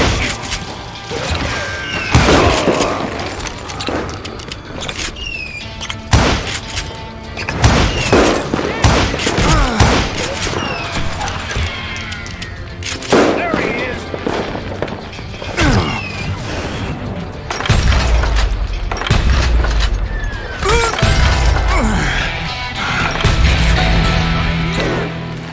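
Rapid revolver and rifle fire in the Western shooter game Call of Juarez: Gunslinger, loud cracks in bursts and volleys with crashes and impacts, set in a saloon shootout.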